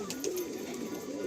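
A brief, soft cooing from an Andhra Kalanka pigeon, one low rolling coo rising slightly, quiet and close with no talk.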